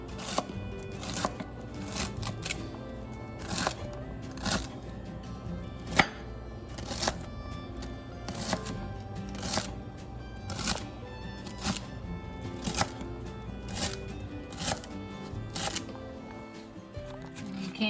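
A knife chopping vegetables such as celery for macaroni salad on a cutting board, a steady run of quick close crisp taps that goes on throughout.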